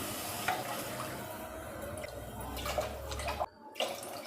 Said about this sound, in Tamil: இப்போ நம்ம அதில் 3 டம்ளர் தண்ணி ஊற்றிக்கலாம்.